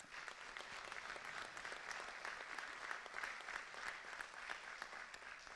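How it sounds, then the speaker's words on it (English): Steady applause at a Westbury school board re-organizational meeting, honoring the Westbury Youth Soccer Club; a quiet, fairly distant room of clapping hands holding an even level throughout, with no talk over it. "Let's applaud the Westbury Youth Soccer Club."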